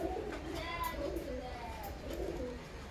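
Female pigeons in a home loft cooing in soft, repeated low rolling calls, fairly close, with a steady background hum and a few faint chirps over the top.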